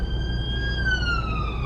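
A police siren on an emergency vehicle passing along the M6 motorway, a steady wailing tone that slides down in pitch as it goes by, loud over constant traffic rumble.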